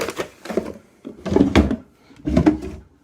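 A drawer in a bedroom slides and knocks three times in quick succession, each a close wooden rumble with clattering bumps.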